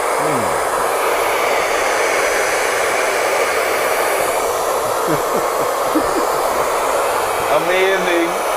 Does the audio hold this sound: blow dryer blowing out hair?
yes